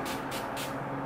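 NYX matte finishing setting spray mists from a can in three quick, close hissing bursts, each a short puff of airy spray.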